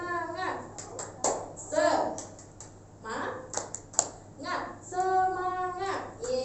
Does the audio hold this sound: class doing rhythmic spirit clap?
yes